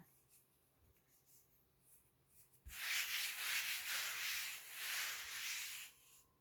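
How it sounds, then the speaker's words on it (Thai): A hand rubs starch across a rolled sheet of egg noodle dough, starting as a close, continuous dry brushing scrape after a quiet start and holding for about three seconds before fading. "โรยแป้งนวลแล้วก็ทาให้ทั่วทั้งแผ่นนะคะ"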